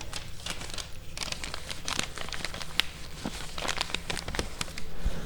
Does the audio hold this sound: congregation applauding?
no